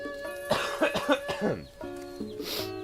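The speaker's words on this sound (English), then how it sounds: "I can't completely control the cough" A few sharp, raspy coughs in a quick cluster, close and fairly loud, followed by a quieter stretch with a faint tonal hum underneath.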